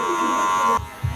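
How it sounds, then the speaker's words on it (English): Electric hair clippers buzz steadily while cutting a men's short crop fade with the clipper-over-comb method, then cut out abruptly, leaving a couple of soft low thumps. "Again, working clipper over comb now."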